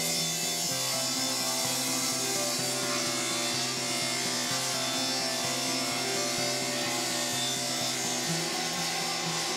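A table saw cuts across a board on a plywood crosscut sled, a sustained, loud whine of the blade with a steady hum and rough rasping texture throughout.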